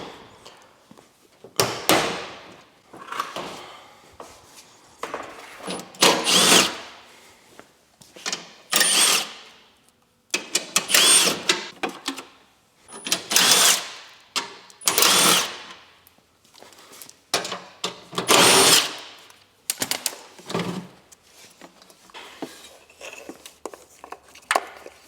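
A cordless power drill runs in repeated short bursts, whirring on and off at close range while removing bumper fasteners from a 2007 Subaru STI, with brief pauses and light handling clatter between runs.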